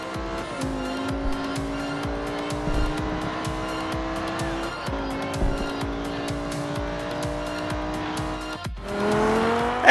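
Race cars in the Forza Horizon 2 video game rev hard while off-roading, with sustained, shifting engine tones and tire squeal. A louder surge of engine noise comes near the end.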